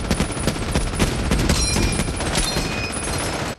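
Dense, relentless machine gun fire and battle noise from the war film Saving Private Ryan roar continuously and loudly before cutting off abruptly.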